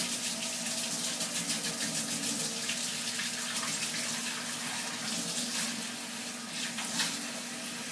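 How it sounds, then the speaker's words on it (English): Warm water runs steadily into a plastic water bottle for several seconds, a continuous hissing, gurgling pour heard close and fairly quiet, with no voices. "First, add about an inch of warm water"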